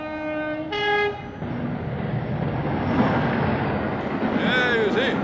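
A train passes on a railway, opening with a loud, sustained horn blast and then a steady broad rumble of cars rolling by, with squealing wheel tones near the end.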